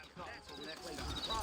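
Horse hooves clip-clopping in the Western video game Red Dead Redemption, set in New Austin: a steady, fairly close trot under continuous talk.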